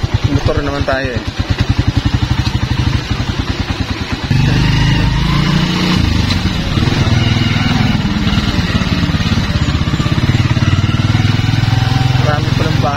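A motorcycle riding a road down toward Natipuan beach in Nasugbu, Batangas, with a close, loud engine that thumps in a fast idling rhythm before settling into a steady running drone, and someone talks over it.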